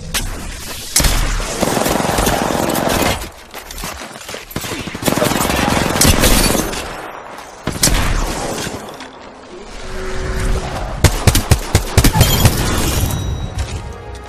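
Gunfire rattles through an Apex Legends battle royale match: dense, loud bursts of shots and impacts come in waves with brief lulls, a busy firefight layered with other game effects.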